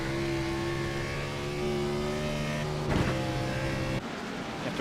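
A stock car engine in a racing video game holds a steady, sustained drone with clear harmonic tones, its pitch easing and shifting as the throttle is worked, fairly loud and close with no talk.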